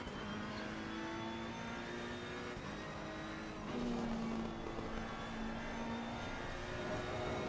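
A race car engine revs high in a racing game at Monza, a loud steady drone with a tonal whine that rises in pitch partway through. It carries on without a break and no one talks over it.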